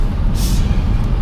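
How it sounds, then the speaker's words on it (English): An Abt Audi RS5-R brakes hard on the Autobahn, giving a brief loud hissing burst over heavy road and wind rumble. "Oh, on the brakes!"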